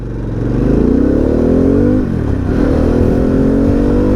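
A Harley-Davidson Pan America motorcycle engine rumbles loudly and close, its deep exhaust note rising as it revs, dipping briefly, then revving again.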